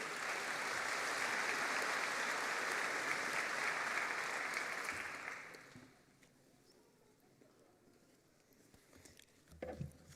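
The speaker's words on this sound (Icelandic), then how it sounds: "Og þá má klappa fyrir stúdentunum" A large audience at a Tækniskólinn graduation ceremony in Harpa gives sustained, dense applause for the graduating students, which fades out about halfway through, leaving quiet room tone and a few faint sounds.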